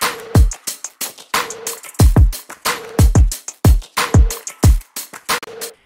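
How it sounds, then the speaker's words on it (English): Layered drum loop for an alternative pop rock track, with repeated punchy kicks sweeping down into deep booms, crisp hi-hats and textured foley hits in a steady groove, loud and alone without any voice. "So all the drums together now sound like this."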